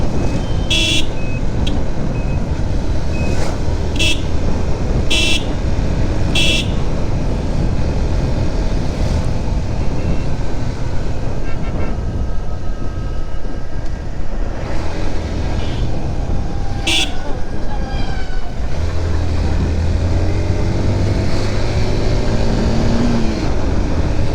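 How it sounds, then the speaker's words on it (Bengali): Heavy road traffic jam near Narayanganj heard from among the vehicles: a dense, loud, continuous rumble of engines and wind, cut through by several short, sharp horn blasts, with a vehicle passing close near the end. "আজকে বৃহস্পতিবার আর এত জ্যাম, এই আল্লাহ, মারাত্মক জ্যাম"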